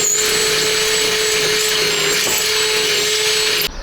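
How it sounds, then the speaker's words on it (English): A power drill bores new holes through a car fender while fitting a body kit, running as one loud, steady, high-pitched whine close by that cuts off abruptly at the end. "I'm gonna drill this out"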